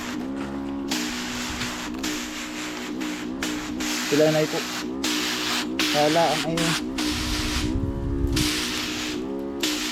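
A pesticide sprayer hisses steadily in bursts over string bean plants in a field, with a voice talking over much of the spraying.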